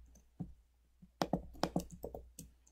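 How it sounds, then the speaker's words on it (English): Keystrokes on a computer keyboard tap out a short command, a handful of quiet, close clicks in an uneven quick rhythm over faint background hum, with no speech. "click on this button and type git clone"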